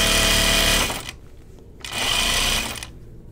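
Sewing machine tacking a seam in two short bursts, a loud rapid mechanical whir that stops, pauses briefly, then runs again before stopping.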